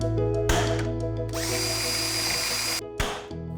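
A power drill whines loudly up close in short bursts, drilling rivet holes for a roof system on a Polaris Slingshot, spinning up, biting in with a rising buzz, then stopping and briefly restarting.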